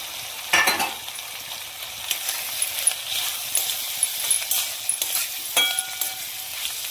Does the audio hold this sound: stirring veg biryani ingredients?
yes